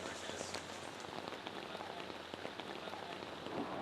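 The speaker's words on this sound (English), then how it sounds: "it started raining." Rain falling on an outdoor film set, a steady dense patter of drops on surfaces, fairly faint and continuous with no talk.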